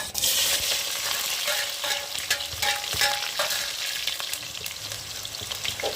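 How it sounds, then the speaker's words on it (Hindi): Large onions frying in hot ghee give a loud, steady sizzle that runs the whole time, with a few scrapes and clinks as they are stirred in the pan. No one speaks. "अब हम इसमें ये हमने बड़े साइज का प्याज लिया, ये डालेंगे।"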